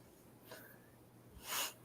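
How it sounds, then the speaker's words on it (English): A single sharp sneeze bursts out near the end of a quiet stretch in a live music review stream, brief and moderately close, preceded by faint breathy sounds. "Who sneezed?"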